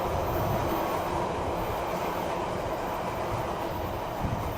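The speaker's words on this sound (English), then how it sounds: "I'm going to let the train pass 1 second." A passing train fills the scene with a steady, loud rumble and rolling rail noise, close by and unbroken for several seconds with no voices.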